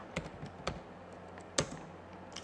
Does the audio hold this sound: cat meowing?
no